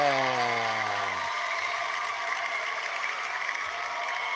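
Recorded crowd cheer played for a live stream audience, a dense roar of applause and whooping that opens with a brief descending tonal swoop, then holds steady and loud throughout.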